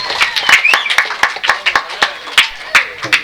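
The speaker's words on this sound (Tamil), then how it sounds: "கைத்தட்டு கைத்தட்டு கைத்தட்டுங்க கைத்தட்டுங்க." An audience at a stage show in Nedumadurai clapping, with distinct claps coming in a loose rhythm alongside a voice.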